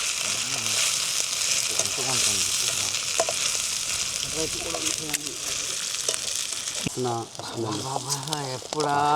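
Onions sizzling in a pan as ginger garlic paste is added outdoors in a forest setting, a steady bright frying hiss with occasional stirring scrapes, while a voice talks over it near the end.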